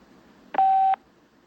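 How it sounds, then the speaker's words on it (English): A steady electronic tone on a call-in radio show signals that a caller is now live on air, a single loud beep lasting under half a second over faint background hiss. "A beeping noise will indicate when you are on the show with the host."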